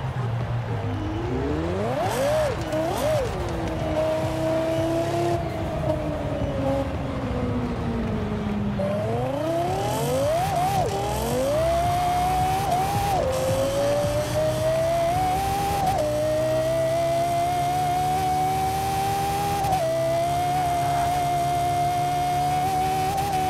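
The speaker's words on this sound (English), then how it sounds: "I'm going to shut up so we can hear the engine sound." A 1,300 hp Lexus LFA sports car in the video game Forza Horizon 4, its engine and exhaust rising and falling through gear changes as it revs and accelerates, steady and continuous with no talking.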